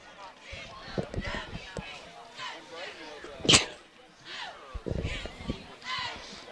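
A single sharp sneeze bursts out close by amid a football game broadcast between Newport Greyhounds and Harmony Grove Hornets, surrounded by ongoing commentary talk.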